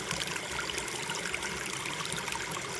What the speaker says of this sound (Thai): ทางน้ำไหลพี่น้อง